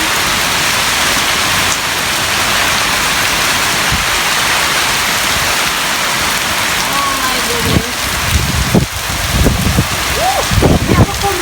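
Heavy tropical storm rain hisses constantly in George Town, Cayman, as strong wind gusts buffet nearby, with rough bumps and rustling growing louder toward the end; a voice can be heard faintly.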